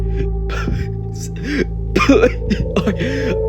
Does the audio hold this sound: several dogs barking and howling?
no